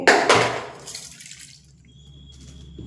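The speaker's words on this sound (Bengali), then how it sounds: "এবার দিয়ে দেব অল্প জল হাফ বাটি মতো জল দিয়ে দেব" Half a bowl of water poured over semolina and potato in a kitchen: a short, close splashing pour lasting about a second, then fading into near quiet.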